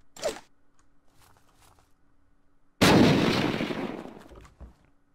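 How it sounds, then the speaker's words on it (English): A frag grenade explodes in the video game Unturned, a single loud booming blast after a few seconds of quiet small sounds, with a long rumbling decay. "let's try an actual frag grenade"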